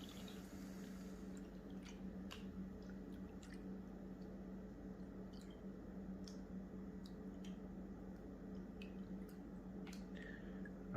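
Paydirt swirled with water in a gold pan during stratifying, quiet wet squishing and sloshing with small scattered drips and ticks of gravel over a steady low background, close and faint.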